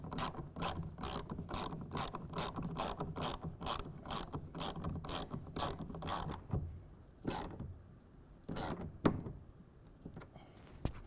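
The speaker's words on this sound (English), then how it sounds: "And we're going to tighten that again to 10 foot-pounds." A tonneau cover fastener on a truck is tightened with a ratchet, a long run of steady rapid clicks followed by a few separate louder clicks and clunks, with no talking.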